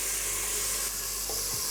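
Lamb sears in its own fat in a pan for a potato curry, making a soft, even sizzle and hiss that holds steady, with a faint low clunk near the end and no voices.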